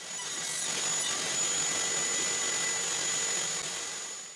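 Table saw running through wood on a finger joint jig, a loud steady whine and broadband roar that holds evenly for about four seconds, close up with no talk.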